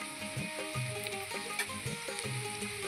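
Chopped garlic sizzles softly in a pan with fried onion, a faint steady crackle with light clinks over a background hum.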